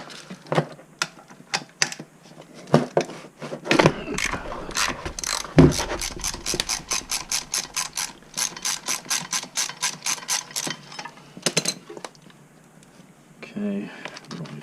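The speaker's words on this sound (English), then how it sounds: "So we need to remove the 17mm coolant bolt." A ratchet clicks rapidly in bursts while loosening the lower 17mm coolant bolt on a Mazdaspeed6 during a turbo install, with metallic clanks between strokes, close and clear.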